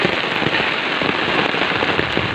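Heavy rain pours down in an area flooded by floodwater, a loud, dense, continuous patter on surfaces heard up close with no talk.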